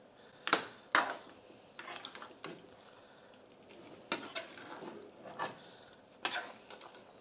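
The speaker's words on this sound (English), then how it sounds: "So give this a nice little mix." Spoon or spatula scraping and clinking against a metal pan while stirring mutton korma, in a handful of sharp, irregular strokes, with quiet pauses between them.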